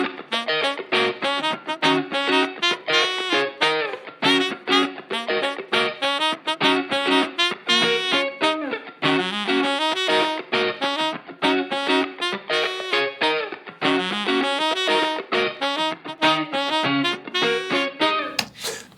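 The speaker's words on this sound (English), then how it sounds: "the kind of guitar and the saxophone parts, the final parts that we went with, together sound like this." Saxophone and guitar parts of an electro-funk track playing together, a dense, continuous and loud mix with rhythmic, punchy phrasing and no talk.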